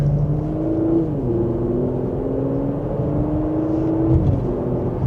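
A 2026 Porsche Macan S in sport mode, second gear, gives a steady engine drone that rises gently in pitch, shifts and climbs again through a mild acceleration, heard from inside the cabin with no talk.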